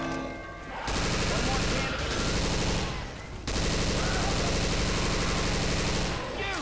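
Rapid bursts of gunfire in Left 4 Dead 2 crackle in dense automatic volleys with short pauses between them, fairly quiet overall, while players talk over the shooting.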